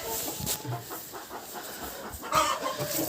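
Hens clucking in a backyard poultry yard, a few soft calls scattered near and far with a louder burst of clucking toward the end over steady farmyard ambience.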